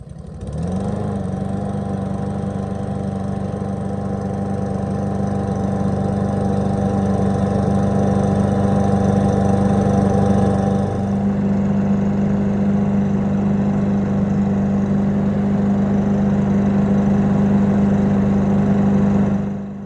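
A Poulan Pro push mower engine catches after sitting unused, then runs at a loud, steady drone that holds close and constant for the whole stretch, with a slight shift in tone partway through.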